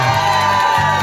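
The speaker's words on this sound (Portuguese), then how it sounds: "palmas pro churrasqueiro" A crowd at a birthday party for a 17-year-old girl cheers and whoops in a brief, loud burst of mixed shouts.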